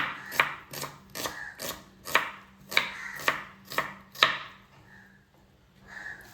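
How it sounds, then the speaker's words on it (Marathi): A knife chops through an onion lengthwise on a board in about nine crisp, evenly spaced strokes, close and clear, then the cutting stops and brief soft handling sounds follow. "कांदा असं साफ करून आपल्याला हा उभा चिरून घ्यायचा आहे"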